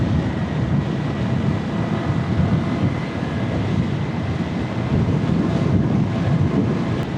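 Wind blows outdoors along the way to Buhay Forest in Magallanes, Cavite, a steady, blustery rumble buffeting the microphone without letup for the whole stretch.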